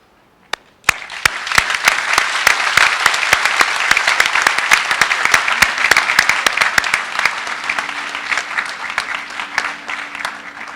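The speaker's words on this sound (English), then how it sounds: "Let us join in a tribute with a rousing round of applause for today's promising young men and" An audience at the 2015 St. George's University commencement ceremony in Grenada bursts into applause, a dense sustained clapping that starts abruptly, stays loud and even, then thins slightly toward the end.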